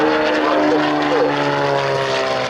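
Propeller aerobatic aircraft at the 1992 RAF Coningsby airshow performing tail slides and rolls, its engine a steady loud drone with a sustained tonal hum that shifts slightly in pitch throughout.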